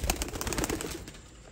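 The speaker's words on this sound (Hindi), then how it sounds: "माशाल्लाह कबूतर वेखो बड़े वधिया कबूतर जी" Pigeons at a breeder's loft coo softly over a steady noisy background, with a few brief louder bursts early on and no voices.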